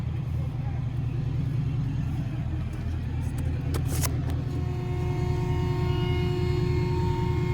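A dump truck engine hauling sand labors with a deep, steady rumble close by, droning continuously under strain and sounding weak while trying to dump its load.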